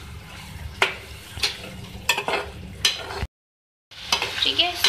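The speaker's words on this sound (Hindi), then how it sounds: "इस तरीके से आप मिक्स करें, साथ साथ कुक करते रहेंगे इसको" Fried chicken being stirred into green karahi masala, with repeated scraping strokes of a spoon against the pan over a soft sizzle, a brief silent gap, then more stirring.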